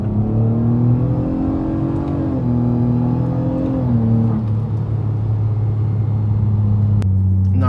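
A 2009-2014 Nissan Maxima with a CVT and a muffler-only exhaust accelerates steadily. It gives a loud, continuous engine drone that rises and falls in pitch as it revs, heard from inside the car with no talk.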